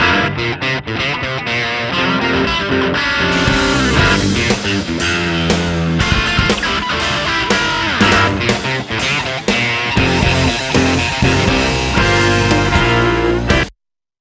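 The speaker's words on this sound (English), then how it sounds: "So with the rhythm guitar, it sounds like this." Rhythm electric guitar through a Line 6 Helix preset plays a loud, dense distorted part for about fourteen seconds, steady and close, with no talking, then stops abruptly.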